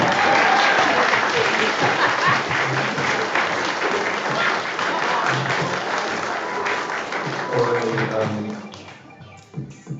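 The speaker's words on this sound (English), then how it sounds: "Clap for them," A crowd at a Splatoon 3 LAN tournament bursts into loud, sustained applause that gradually thins out toward the end, with voices talking over the clapping.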